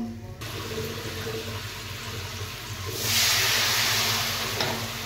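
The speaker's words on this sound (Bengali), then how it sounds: "এবার জল অ্যাড করব।" Water pours into a pot of fried spices while cooking a dish of kochu stems with garlic. A steady rush of liquid rises over the low sizzle of the pan and grows louder partway through.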